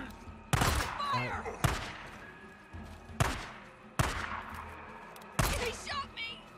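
Gunfire in the PC game Days Gone: five sharp, loud shots at uneven intervals, each with a short ringing tail and brief pauses between.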